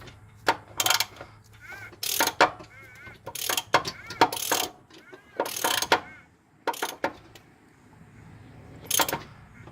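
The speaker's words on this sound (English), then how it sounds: "Now I'm going to turn the crank until these cam gears say up." Half-inch ratchet with a 19 socket turning an engine crankshaft by hand to line up the cam gears during valve and timing belt checks, bursts of close ratcheting clicks separated by pauses.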